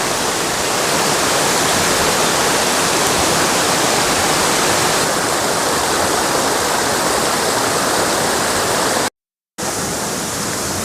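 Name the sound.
waterfall at the top of Battle Creek Falls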